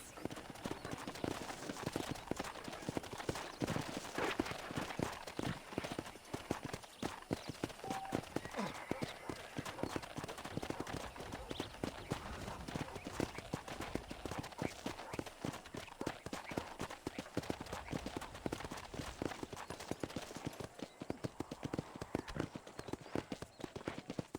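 A horse's hooves clip-clop in a steady, quick rhythm throughout in Red Dead Redemption, close and even-paced, with no pauses.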